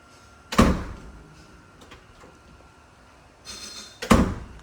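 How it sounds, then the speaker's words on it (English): A door in a home swings open on its own, giving two fairly loud broadband knocks or bumps several seconds apart, with a faint creak-like rustle between them in a quiet room. "The door is opening."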